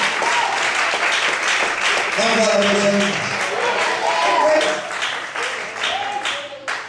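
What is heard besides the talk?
applause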